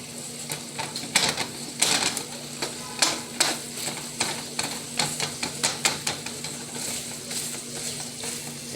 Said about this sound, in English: Okay, I will start the chopping process.